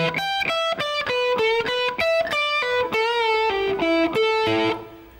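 Electric guitar plays a blues shuffle lick, a steady run of distinct plucked notes and double stops with a slightly driven tone, close and alone, ending on a ringing note.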